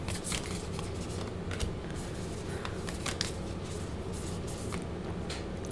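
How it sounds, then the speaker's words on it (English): A deck of tarot cards being shuffled by hand, a continuous close riffle of papery flicks and slides with small sharper snaps scattered through, and nobody speaking. "These things are so cute, but they're so hard to shuffle."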